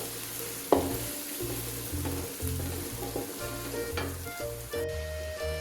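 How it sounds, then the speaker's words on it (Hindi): Chicken pieces fry with onion, garlic and ginger for a dum biryani, a close steady sizzle broken by rhythmic scraping stirs and a few clinks of the spoon against the pot. "चिकन हमारा अच्छे से फ्राई हो चुका है, इसका कलर भी चेंज हो गया।"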